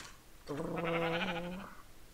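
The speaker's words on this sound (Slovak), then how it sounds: "môžem tieto ovce pozabíjať" A single drawn-out sheep bleat from the Minecraft video game, clear and fairly close, lasting over a second with no talk over it.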